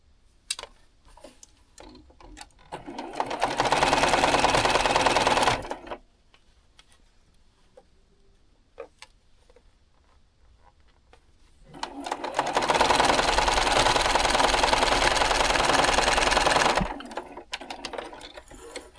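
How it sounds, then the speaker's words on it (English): Sewing machine stitching quilt blocks in two long, steady bursts of rapid whirring, separated by a quiet pause with faint handling clicks, close and clear with no talking. "now we'll sew this one on this side"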